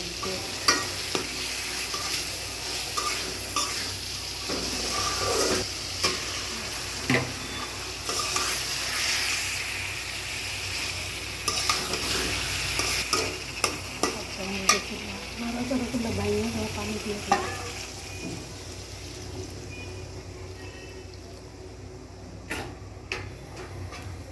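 Spices and tomato sautéing in a pan, a continuous crackling sizzle with frequent metallic scrapes and taps of a stirring spoon, close and fairly loud, with occasional faint sounds in the background.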